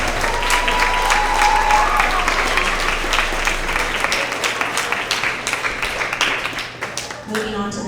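Many people clap at a school award assembly, thick and sustained at first, then thinning into scattered individual claps as it dies away, with a brief voice near the end.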